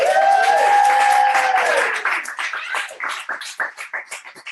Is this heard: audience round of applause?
yes